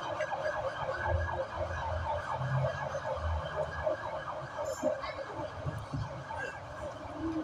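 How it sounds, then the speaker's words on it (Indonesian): Ambulance siren wailing in a repeating rise and fall as it passes by, heard under a murmuring crowd at a Maulid gathering in Sidrap, with road traffic noise behind it. "Kita hormati ambulannya."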